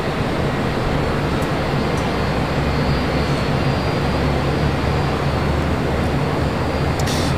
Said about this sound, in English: FedEx coming in from Salt Lake City, a 767-300 freighter next up for arrival on 25 left